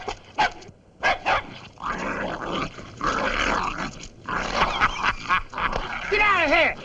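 A dog barks and growls while attacking in a 1945 Three Stooges comedy short, with loud, close, rapid barks and snarls mixed with agitated shouting and voices throughout.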